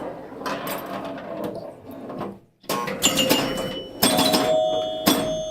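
The Fire Queen pinball machine rings out bright electromechanical chimes, loud and close, in several separate clusters of ringing tones with a short silent gap in the middle and mechanical clatter between strikes.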